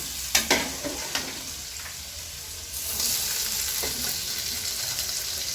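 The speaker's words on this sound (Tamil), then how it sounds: "அதுக்கோசரம் எடுத்து தனியாக தாளிக்கிறது" Hot oil sizzles steadily with spices popping while tempering for a goat curry, a few sharp crackles early on, and the frying grows slightly louder midway; no talking.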